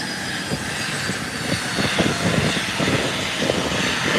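An American Airlines jet airliner taxis to its parking stand at an airport, a steady, loud broadband engine roar with no break, heard nearby with no voices.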